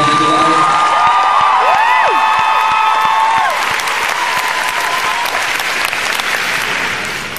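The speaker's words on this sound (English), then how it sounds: "Can everyone please give a round of applause for putting this amazing event together?" Loud, sustained applause and cheering from a live crowd at VidCon, with whoops rising over the clapping before it slowly tapers off.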